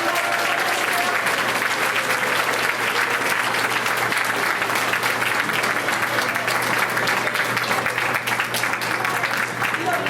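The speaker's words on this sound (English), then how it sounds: "Let's give them all a big round of applause." A large audience at a school board of education regular action meeting claps steadily, a dense, full round of applause that stays even and sustained for about ten seconds without fading.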